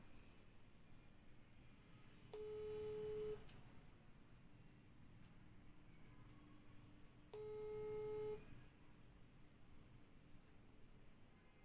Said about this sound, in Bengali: তো আপনারা হয়তো শুনতে পাচ্ছেন রিং হচ্ছে,